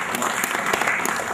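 Brief burst of audience applause at a cybersecurity conference in Nigeria, dense and even clapping from many people throughout, with no clear talk over it.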